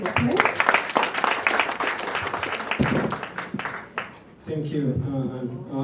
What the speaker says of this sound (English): let's welcome the gentleman, please, with a round of applause